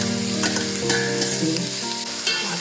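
Hakka abacus seeds, taro dumplings shaped like beads, fry in a pan with mushrooms, a continuous close sizzle punctuated by stirring scrapes and light clinks, with no speech.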